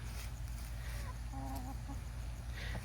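Backyard chickens being fed small, undersized garden radishes give a few soft clucks and brief honk-like calls at close range, set against a low steady outdoor rumble.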